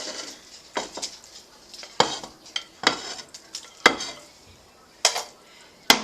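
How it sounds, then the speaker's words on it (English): Burgers for a Salisbury steak dish are set back into a pan of juices, giving a run of sharp utensil clanks and scrapes against the pan with a soft sizzle between them, close by and without speech. "we are going to put our burgers back in the pan"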